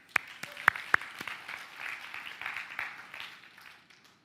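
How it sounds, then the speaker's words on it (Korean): An audience at a church university-group Friday gathering claps, a few sharp separate claps at first, then a moderate spread of applause that fades out within a few seconds. "박수 한번 칠까요?"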